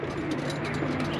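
Racing pigeons cooing in their loft, a steady chorus of soft, repeated coos close by over a constant low background hum, with no talking.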